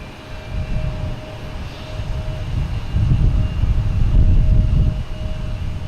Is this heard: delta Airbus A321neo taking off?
yes